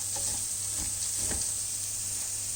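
Food, apparently rice, frying in butter or oil in a pan, making a steady close bright sizzle with a few soft stirring knocks, no voices over it.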